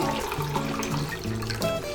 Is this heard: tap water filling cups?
yes